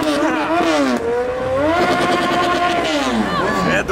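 Porsche engine revving hard as the car pulls up, loud and close with rising and falling pitch sweeps, while excited voices talk over it.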